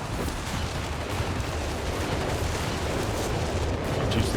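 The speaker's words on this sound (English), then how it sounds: "I heard a walking Stuka starting to fire there." Walking Stuka rocket artillery firing in Company of Heroes 3, a dense, continuous roar of battle with rumbling barrages and scattered gunfire throughout a large 4v4 match.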